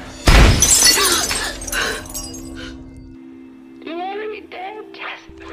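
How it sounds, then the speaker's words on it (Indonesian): A glass beer bottle hits a TV and shatters in a horror film scene, a sudden loud crash and breaking glass followed by tinkling debris, with voices and tense sounds afterward. "botol bir yang ada di meja terlempar ke TV"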